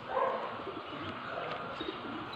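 Breeder birds, newly arrived Taiwan stock, cooing softly in a close aviary with soft chirps mixed in, a low continuous murmur with no talking.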